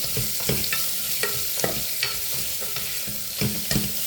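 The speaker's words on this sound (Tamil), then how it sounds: "எல்லாத்தையும் போட்டு நல்லா வதங்க விடணும். கறிவேப்பிலை கரண்டியால் கலந்து விடுவோம்" Curry leaves and an onion mixture sautéing for chicken curry, stirred with a ladle in a pan: rhythmic scraping strokes every half second or so over a continuous oily sizzle, close up, no speech.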